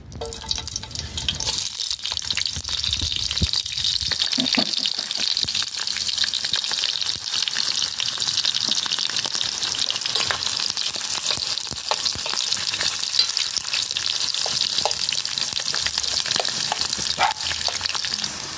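Onion frying in oil in a skillet while a Mexican green salsa is being cooked, a loud, steady, crackling sizzle that carries on without a break for the whole stretch.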